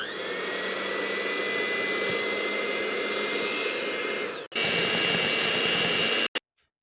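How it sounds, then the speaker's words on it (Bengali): Electric beater machine whipping cream in a bowl: a loud, steady high-pitched motor whine with a brief cut-out midway, then resuming before stopping abruptly. "এখন আমি সবগুলো উপকরণকে বিটার মেশিন দিয়ে বিট করে নেব।"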